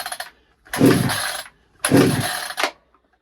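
A cheap 58cc gas chainsaw engine from Temu fires and runs in two loud bursts of rough, high revving, each lasting about a second, with short silent gaps between them.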